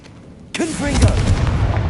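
A Confringo explosive spell goes off in Hogwarts Legacy, a sudden loud blast that keeps rumbling and crackling for over a second after a quiet lead-in, with a voice faintly mixed in.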